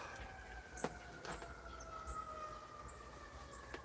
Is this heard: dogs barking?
no